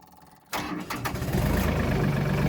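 A tractor engine cranks briefly and then catches, settling at once into a loud, steady idle that runs on close by in a cold Alaskan setting.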